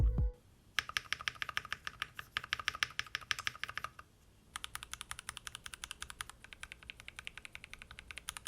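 Rapid, even key clicks come from a Tofu65 keyboard with Gateron Milky Yellow switches and a spacebar fixed with the Holee Mod using fabric band-aids. The close, crisp typing has one short pause partway through.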